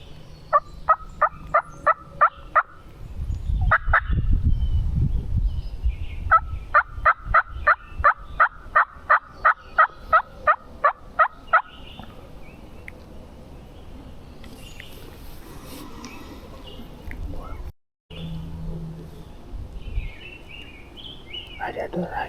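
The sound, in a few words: wild turkey gobbling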